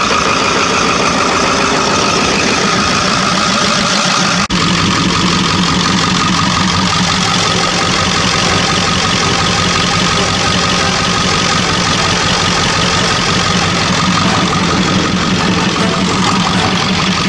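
A truck's diesel engine runs rough, its valves suspected after the injectors were opened, with a steady loud drone and uneven knocking throughout, no voices.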